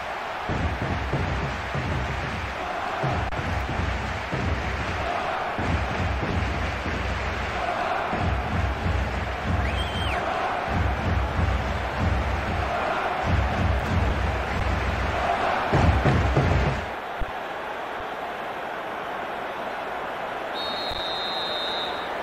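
A stadium crowd in the football video game eFootball PES 2024 roars and chants in waves of cheering, a steady broad wash of noise that drops off abruptly near the end.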